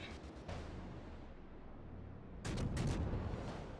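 Naval gunfire in a World of Warships-style battle replay featuring the cruiser Nurnberg, with a distant low boom early and a heavier rumbling salvo near the end over steady ocean and engine ambience.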